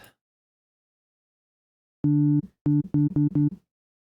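Sine wave synth notes layered with sub bass in an Ableton session play alone, a held low tone followed by a quick run of short, evenly spaced pulses that stop abruptly.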